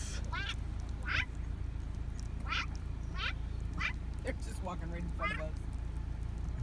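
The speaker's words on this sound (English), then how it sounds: "Hi, geese." Several raspy honks from geese nearby, repeated in uneven bursts over a steady low rumble of traffic-like background noise.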